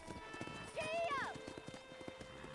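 A horse in Red Dead Redemption trots with rhythmic hoof clip-clops and lets out a short whinny midway, with game ambience and some voice around it.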